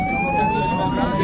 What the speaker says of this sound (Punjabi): ਲਗਾ ਦਿਓ ਭਾਈ ਐਂਬੂਲੈਂਸ ਲਗਾ ਦਿਓ